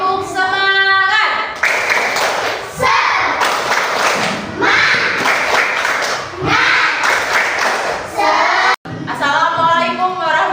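A primary school class at an elementary school performs a rhythmic clapping chant together, loud bursts of group claps mixed with children's shouted voices and a teacher's voice.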